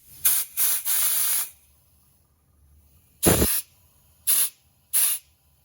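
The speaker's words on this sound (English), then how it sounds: "I'm going to blow some air through this nozzle right here and hopefully break all that rust loose here" Short blasts of compressed air hiss through a rusty nozzle on a 49cc scooter trike, several sharp bursts with quiet gaps between them, close and loud.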